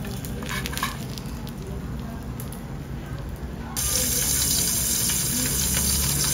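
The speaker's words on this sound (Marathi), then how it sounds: "आणि ह्याला तळून काढूया." Steamed pomfret fish frying in a pan makes a steady close sizzle that suddenly grows louder and denser partway through, continuing to the end.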